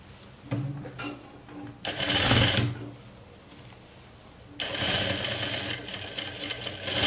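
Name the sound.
sewing machine stitching a seam on a jumpsuit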